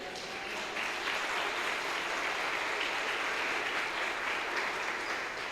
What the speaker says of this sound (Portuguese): Dê um aplauso ao Senhor por isso.